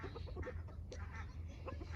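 A rooster wearing a DIY no-crow collar tries to crow and manages only a choked, strained call. Other fowl cluck nearby over a steady low hum.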